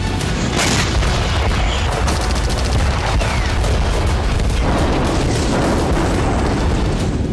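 Loud, continuous battle noise of booming explosions and bursts of gunfire during an attack by Ukrainian special forces on Russian positions, with dense rumbling blasts and sharp cracks throughout and no talk.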